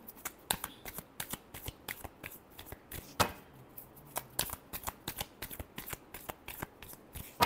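Tarot cards are shuffled by hand in quick, crisp bursts of riffling and flicking, close and fairly quiet, with short pauses between the shuffles.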